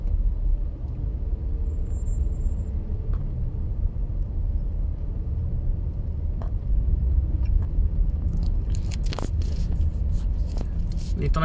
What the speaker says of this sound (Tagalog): Dito na yun sa main road, main road na to. Bakit traffic pa rin ang main road?